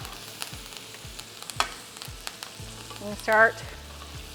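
Butter and garlic sizzle around a beef tenderloin in a pan during basting, with scattered spoon taps and a short clatter near the end, and a few spoken words.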